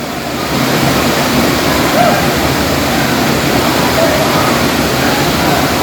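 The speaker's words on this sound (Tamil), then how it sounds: "இதுதான் கடைசி ஃபால்ஸ் லாஸ்ட் ஃபால்ஸ் நான் கிட்டவே வந்துட்ட கிட்ட இங்க பாருங்க வேற லெவல்ல ஃபோர்ஸா இருக்கு தண்ணி" Ubbalamadugu (Tada) waterfall roaring with forceful water, heard up close as a loud, steady broadband rush that swells in after a brief quieter start and holds constant throughout.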